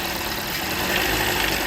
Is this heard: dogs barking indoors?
no